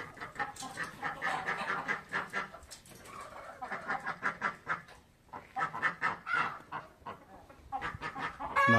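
Country chickens on a farm keep up a busy chorus of rhythmic, repeated clucks and cackles in bursts, fairly close and loud, with a brief lull in the middle before the flock picks up again.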